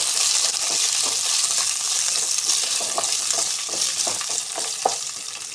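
Green chillies sizzle steadily in hot oil in a pan for a tomato chutney, close and continuous, with light stirring clicks scattered throughout.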